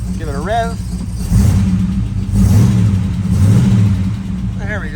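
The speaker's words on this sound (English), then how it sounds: "Give it a rev." A 1969 Oldsmobile Cutlass S convertible with a Rocket 350 V8 and automatic transmission idles close by and is revved in two swells. Someone talks over the engine at the start and the end.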